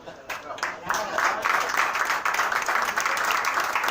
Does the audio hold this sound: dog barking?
no